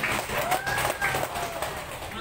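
Applause from a seated audience at a company gathering of PT BBC in Mataram, Lombok, a steady dense wash of clapping with crowd noise and some voices mixed in.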